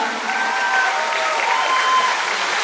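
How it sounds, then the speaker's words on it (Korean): Applause from an audience at a football award ceremony marking a player's 200th match, steady clapping heard from a distance in a large, reverberant space with a faint murmur of crowd noise. "추천 박수 부탁드립니다."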